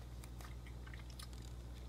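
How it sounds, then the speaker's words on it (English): Soft bites and chewing on a ProSupps MyBar Pro Death By Chocolate protein bar, heard close and quiet as a run of small squishy crunches over a faint steady background hum. "It's soft to bite into, but it is a little chewy."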